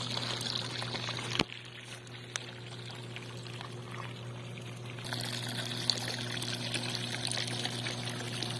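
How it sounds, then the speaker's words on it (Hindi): Water pours steadily from a pump outlet into a clay pot set in a clay tub in a village, a continuous trickling splash heard up close over a low motor hum, with no talking. "इसके अंदर पानी गिर रहा है।"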